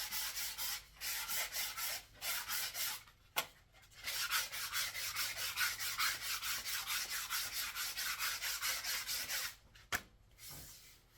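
Final-grit sandpaper rubs back and forth over a wooden flute in quick, steady strokes, a close, soft, rhythmic scratching with brief pauses between runs.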